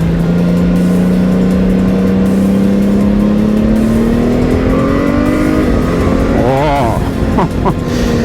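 A 2022 Honda Gold Wing 1800 DCT motorcycle pulls hard, its engine note climbing steadily loud and close, then dropping briefly as the transmission shifts before surging again, with a brief exclamation from the rider.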